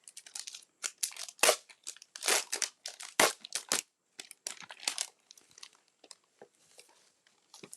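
A sheet of cork paper is handled up close, giving a run of dry, uneven crinkles and crackles in irregular bursts that thin out toward the end, with no talk.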